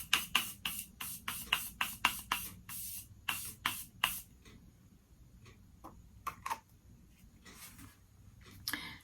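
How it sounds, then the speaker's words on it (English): Makeup setting spray hisses out in a quick series of short, close bursts, several sharp spritzes in a row, then a quieter stretch with a few scattered sprays and faint handling noises. "We're going to do a little setting spray."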